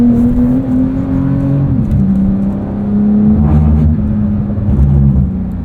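A 2023 Porsche 911 Turbo S with PDK gearbox driven at a Porsche Experience Center, its engine giving a loud, steady droning note that dips as it shifts, then holds and swells again from inside the cabin.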